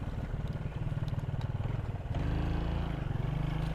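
A motorcycle engine putters steadily nearby, its throbbing pulse growing louder and rougher partway through as it goes by.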